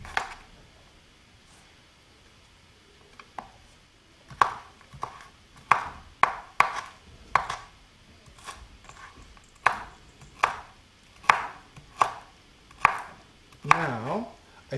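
A knife chopping onion on a board, a sparse few cuts at first and then a steady run of sharp, close chops at an uneven rhythm.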